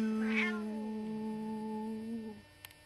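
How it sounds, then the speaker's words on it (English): A white cat meows a long, sustained, wavering tone along with a sung tune, holding steady pitched notes for over two seconds before trailing off, with a faint tap at the end. "He harmonizes. That's some kind of kitty cat right here."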